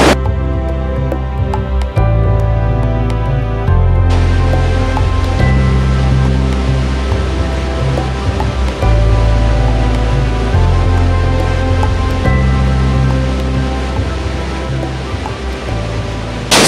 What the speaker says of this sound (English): I've zoomed in a little bit on the water that's falling